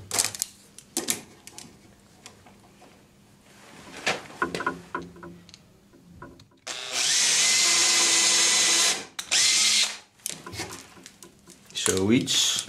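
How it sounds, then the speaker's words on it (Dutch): Power drill boring blind dowel holes into wood: handling clatter and clicks, then a loud, close whirring drill run of about two seconds, a brief pause, a shorter burst, then more knocking and a short tool sound. "En dan gaan we deze boren."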